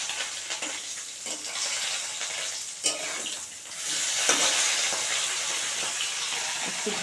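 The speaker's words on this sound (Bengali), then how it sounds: "সব কটা মাছ ভালো করে লাল করে ভাজা হয়ে গেছে।" Parshe fish frying in a pan of hot oil for a fish jhal, a steady loud sizzle with crackling bursts running throughout and a couple of sharper spits, no voices.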